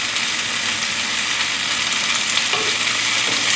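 Tofu and vegetables sizzle steadily in a hot pan during a simple family-style stir fry, a loud, continuous hiss with faint clinks of stirring near the end.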